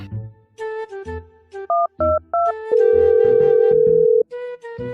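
Telephone tones play in a Sakura School Simulator game as a call is placed to the police: a few quick keypad dial beeps, then a long steady tone, over a looping background music track.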